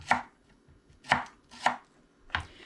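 A knife chops green onions on a cutting board for a salad, four crisp, separate thuds spaced roughly half a second apart, close and clear with no talking.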